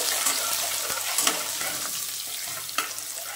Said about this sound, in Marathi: लसूण छान करपून झाले